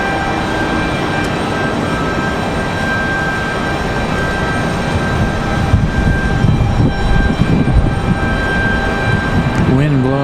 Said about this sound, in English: you hear that A220 making final adjustments into the gate. As our 757 makes its way out for departure.